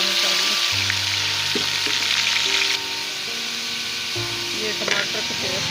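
Green chili and onion paste frying with garlic and ginger in a curry pan, a loud steady sizzle with scraping stirs and a few clinks, the hiss dropping slightly partway through.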